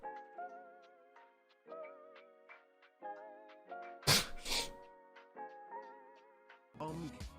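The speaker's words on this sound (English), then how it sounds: "feel like I'm gonna sneeze." A woman's sharp sneeze bursts out midway, a loud noisy blast after stretches of harmonic vocal sound that may be a voice or music, with another abrupt burst near the end.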